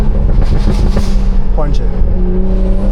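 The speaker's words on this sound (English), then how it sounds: "Now when you want to burble, all you gotta do is just let go off the gas." BMW 340i with a Stage 2+ tune, exhaust burbling and crackling after the driver lifts off the gas, loud and close inside the cabin under steady engine drone.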